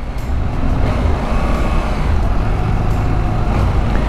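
CF Moto motorcycle, a 2024 450 MT or 800 MT Explore, revving in sport mode with aggressive throttle; a steady, loud engine drone runs throughout amid road and traffic rumble.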